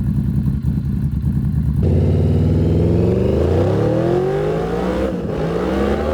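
A motorcycle engine runs loud and steady close by, its pitch dropping to a lower idle and then climbing again through revs, with no talking over it.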